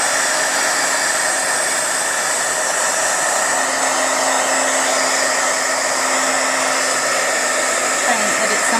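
A hair dryer blows continuously and loudly to dry vinyl applied to a glass block. Its steady whir is close to the microphone and runs without a break throughout.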